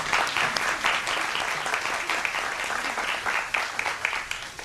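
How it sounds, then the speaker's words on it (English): An audience at a high school quiz competition claps in a dense, sustained round of applause, loud and close with sharp individual claps standing out, continuing steadily before tapering slightly. "Always applaud Giant."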